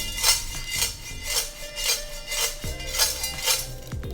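A frying pan is tilted and shaken back and forth in a tossing motion, giving a steady series of metallic scrapes and clinks roughly every half second, close and fairly loud with no voices.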